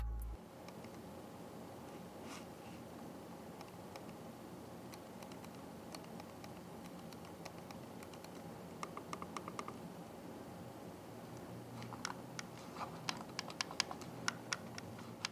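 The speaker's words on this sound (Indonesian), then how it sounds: "Pichel coba tampilkan sampel suara klik untuk mouse Logitech Signature M650." Faint, crisp clicking of a Logitech Signature M650 computer mouse, scattered at first then coming in quicker bursts, quiet against a low steady hiss.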